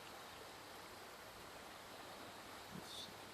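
Rushing river water from a VR fishing game, a steady broadband wash flowing past at close range with no talk over it.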